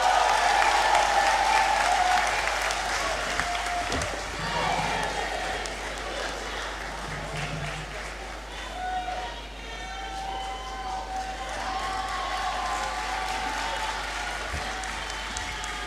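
Applause fills the Great Hall at a University of Ghana graduation ceremony, sustained crowd clapping that holds steady for the whole stretch, with a few faint voices and cheers mixed in.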